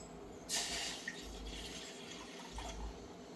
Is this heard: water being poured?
yes